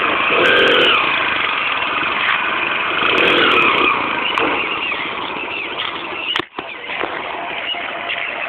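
A motorcycle engine runs with a steady, close buzzing drone that barely varies, dropping out briefly for a moment before resuming, with possible faint voices underneath.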